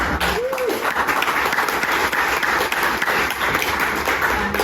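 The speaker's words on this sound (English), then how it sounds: "Can we give a big round of applause first of all?" Audience applause for a speaker at a startup event, loud continuous clapping from a room of people, dense and steady for several seconds with a faint voice briefly over it.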